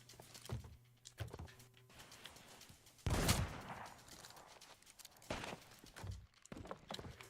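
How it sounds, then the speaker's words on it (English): Fireworks in the Sea of Thieves pirate video game: scattered thumps and pops, then one loud burst near the middle followed by a few more bangs over quiet game background noise. "Oh, there's some fireworks."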